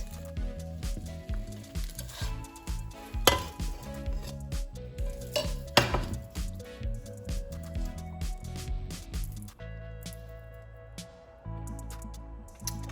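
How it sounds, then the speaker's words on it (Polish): Omelette frying in a covered pan, a soft continuous sizzle close by, broken by frequent clinks, taps and scrapes of utensils and cookware, without speech. "Omlet mi się już smaży, ja go przykryję i będę smażyła pod przykryciem."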